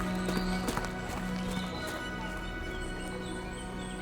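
Horse hooves clip-clop at a walking pace toward a stable, several clear close hoofbeats fading into softer steps, with faint birdsong in the background and a low hum.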